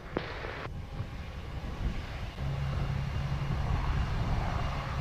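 A JetBlue Airbus A319 on approach to land at Montego Bay, Jamaica, a steady low engine roar that thickens midway and holds as a loud continuous drone, with no voices.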